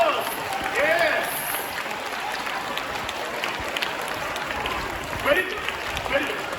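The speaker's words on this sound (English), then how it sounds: "A big applause." A seated audience at an event honouring the Mayor Emeritus of Bristol, England, applauding: sustained dense clapping throughout, with voices mixed in and a slight swell near the end.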